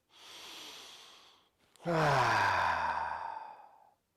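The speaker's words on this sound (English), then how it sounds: "Take a really nice big inhale through your nose and exhale out your mouth." A deep exhale out through the mouth closes a yoga flow, following a softer inhale through the nose, then sounding as one long, loud, voiced breath that fades out over about two seconds.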